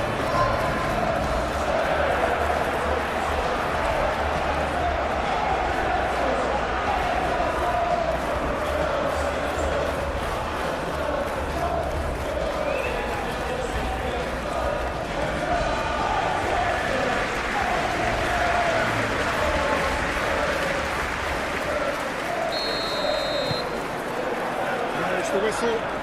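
Stadium crowd noise from a PES 21 Premier League match, Manchester United against Crystal Palace, a steady dense roar that holds at an even level throughout with a faint murmur of voices mixed in.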